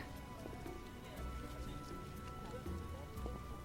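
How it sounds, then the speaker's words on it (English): Steady downpour of rain in The Witcher video game, a soft, even patter of drops on surfaces at low volume with faint in-game sounds, no one speaking. "A real downpour."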